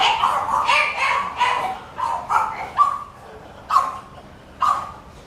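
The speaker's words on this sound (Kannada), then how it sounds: "ಏನು ನಾಯಿ ಕೆಮ್ತಾಯ್ತಾ ಬೊಗಳ್ತಾಯ್ತಾ ಗೊತ್ತಿಲ್ವಲ್ಲ." A dog on a street in a Malaysian residential area with many houses barks several times in short, separated bursts at moderate distance, with a few yips between them.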